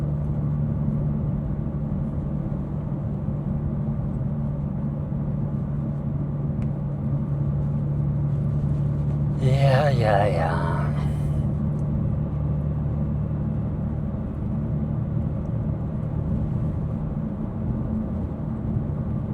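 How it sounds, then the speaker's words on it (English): A 700 horsepower BMW M2 cruises with its exhaust valves closed in sport mode, giving a steady low engine drone and road rumble heard from inside the cabin, with a voice briefly speaking near the middle. "right now I have the valves closed and everything. It's really quiet."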